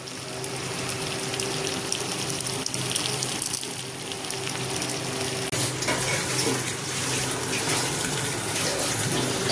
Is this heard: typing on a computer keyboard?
no